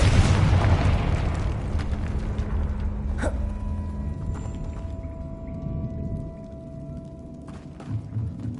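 A Confringo spell explosion in Hogwarts Legacy: a loud, booming burst at the start that decays into a long rumbling tail. A brief swooping magical tone rises partway through.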